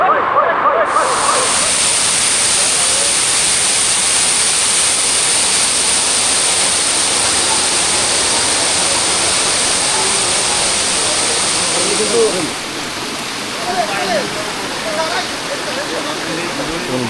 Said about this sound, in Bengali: এই সেই মিঠাছড়ি ঝর্ণা এবং বান্দরখুম ঝর্ণা।